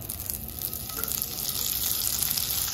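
A tablespoon of butter sizzling in a skillet over medium-high heat, a loud, dense, continuous frying hiss up close that builds slightly, with no voices.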